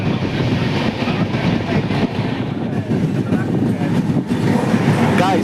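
The Dakshin Express passenger train rolls along with a loud, steady rumble and faint rhythmic clatter of wheels on track, heard from on board. No words are clearly spoken.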